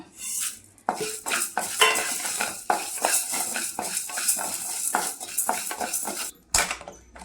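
Cumin and coriander seeds with a sprig of curry leaves dry-roasted in a pan, heard as a quick run of sharp spoon scrapes and metallic clinks against the pan, close and irregular, with a light dry rattle between strokes.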